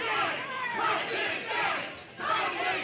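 A wrestling crowd at an Ontario event roars and chants, urging Shane Douglas to punch Ethan Page; the dense, rhythmic shouting swells in waves with a short dip before rising again, loud and continuous.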